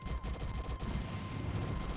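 Rapid, dense gunfire and explosions from the arcade shooter Progear, a constant loud barrage of game weapon fire with no pauses across the stretch.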